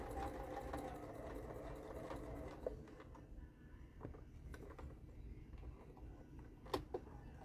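A sewing machine runs a top stitch, a quiet steady mechanical whirr that eases partway through, with a few light clicks.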